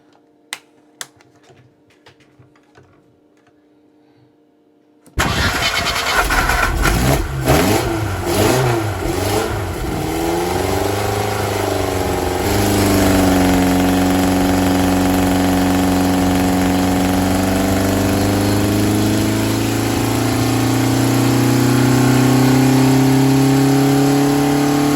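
A Ford Pinto engine with 44 IDF carburetors roars to life on a dyno and revs loudly and steadily, its pitch climbing and holding at high RPM for a long stretch.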